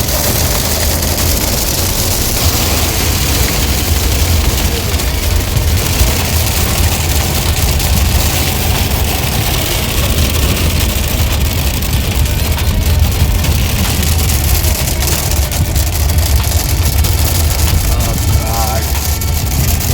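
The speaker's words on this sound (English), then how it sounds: "Heavy rain started." Heavy rain and hail pound a car in Uttarakhand, a dense, loud, constant drumming and hiss heard from inside the vehicle, with faint voices beneath it.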